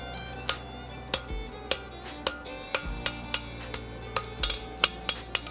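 Hammer blows ring out on an anvil while an eggbar horseshoe with a lateral extension is shaped for an injured hoof, a dozen or so sharp metallic strikes in a loose, irregular rhythm, close and bright, with low shop hum beneath.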